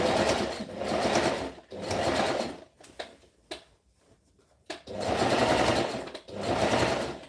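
A sewing machine stitches a v-neck shirt in bursts: two loud runs of rapid whirring stitching, a quiet pause with a few clicks, then two more runs, close by.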